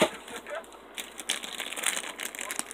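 A cardboard trading card box is cut open up close, with crinkling and crackling of packaging in quick, irregular bursts while voices talk nearby.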